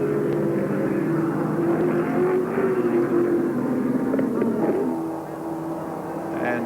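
A historic Appendix J Group Nb touring race car drives at Oran Park raceway in 1987, its engine a steady loud drone that holds and shifts pitch slightly before easing off, with no voices.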